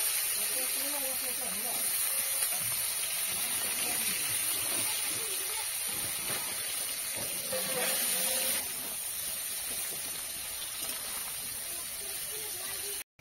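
Sliced potatoes sizzling in a spice paste in a pan, a steady bright hiss with crackle that runs throughout, with a brief swell of sputtering near the middle and no talking.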